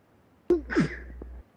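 A single sudden sneeze outdoors on a hillside during a hunt, short and fairly close, with a sharp onset and a brief breathy tail.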